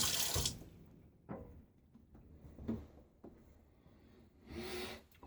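Water runs briefly from a bathroom tap while a razor and face are rinsed after a shave with a Gillette Tech razor and Feather blade, in short splashing bursts separated by quieter pauses.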